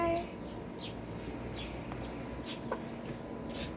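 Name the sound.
chickens clucking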